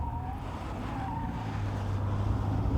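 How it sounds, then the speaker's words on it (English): A 1988 Pontiac Bonneville SSE, heavy with upgraded suspension, is driven hard through cones on a skid pan, its engine droning steadily and swelling louder toward the end, with a faint tire squeal. "the first test will be to run down through the cones and find out what the suspension is made of."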